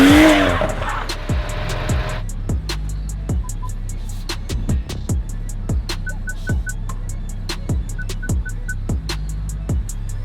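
A BMW M135i engine revs repeatedly in sharp rising bursts, loud and close, with a rhythmic rapid ticking pattern in between.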